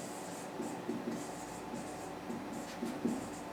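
Pen or pencil writing on paper during an English grammar lesson, a soft continuous scratching with small rhythmic strokes, close and quiet, with no talking.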